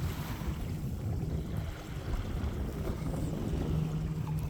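A MacGregor 26M sailboat moves under sail with the wind on the beam, giving a steady wash of water and wind rumble around the hull, close and continuous, with no voices.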